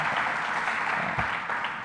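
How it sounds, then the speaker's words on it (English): Audience applause at a robotics conference awards ceremony and town hall, a steady dense wash of many hands clapping together at close range, continuous and even for the full length with no break. "Let's give them a big round of hand."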